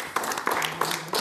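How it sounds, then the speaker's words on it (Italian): Audience applause for a producer at a public talk on environment, landscape and agriculture: a short burst of scattered hand clapping at moderate distance, fairly soft. "Facciamogli un applauso a questo"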